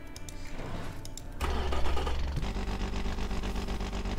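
A game-simulated high-revving car engine with a straight-through muffler, built to rev to 8,000 RPM, in the video game Automation; a loud engine note jumps up and holds a steady drone after a quieter start.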